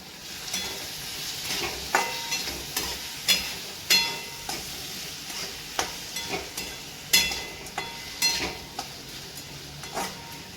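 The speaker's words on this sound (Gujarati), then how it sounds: "હવે આપણે મરચાં એડ કરી દઈશું અને ટમેટા એડ કરી દઈશું" Chillies and tomatoes are added to vegetables frying in a pan for upma, giving a steady close sizzle with repeated light scrapes and clinks of a stirring spoon against the pan, no talking.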